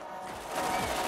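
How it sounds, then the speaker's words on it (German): Gunfire from a normal weapon in the shooter game Borderlands, a brief dense burst of shots in a game mix, growing louder in the second half. "schieße jetzt doch wieder mit einer normalen Waffe"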